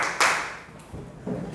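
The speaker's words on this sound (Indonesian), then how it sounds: "tepuk tangan untuk kelompok 1" A few claps ring out from a classroom audience cheering a student group, brief and close, with a sharp burst at the start and softer hand taps and thumps following.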